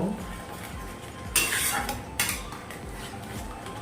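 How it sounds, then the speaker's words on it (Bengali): A spoon scrapes and stirs a spice paste mixed with yogurt in a pan for pointed gourd curry, with two distinct metallic scraping strokes over a low, steady kitchen background. "এবারে সব কিছু মিশিয়ে আমি আবারও 2 থেকে 3 মিনিট ভালো করে কষিয়ে নেব"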